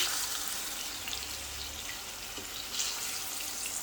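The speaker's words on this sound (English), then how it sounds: "This is how you fry your plantain." Plantain frying in a pan on a cooker turned low, a steady broadband sizzle and crackle running continuously at close range with no talk.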